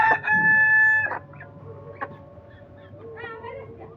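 A Brahma rooster crows once close by, a loud drawn-out call in the first second, followed by softer clucks and chicken sounds.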